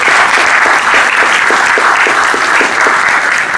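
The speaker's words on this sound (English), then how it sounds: "I think we should give all of the women in here a round of applause for that" An audience at a talk applauds, with dense, sustained clapping that fills the room steadily from start to finish, loud and close, with no speech over it.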